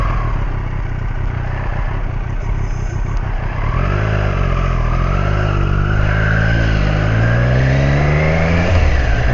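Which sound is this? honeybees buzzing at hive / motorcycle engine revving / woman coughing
motorcycle engine revving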